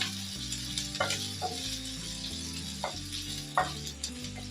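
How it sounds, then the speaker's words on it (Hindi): Onions frying in a pan for bhindi do pyaza, with a steady sizzle over low music and several soft clinks of a spoon stirring the pan at intervals. "और प्याज को हमें अच्छे से पकाना है। आप इसको चलाते रहें लगातार।"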